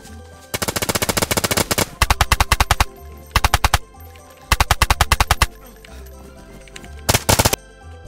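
Automatic gunfire in the survival video game DayZ rattles out in several loud, rapid bursts of close shots, separated by short pauses.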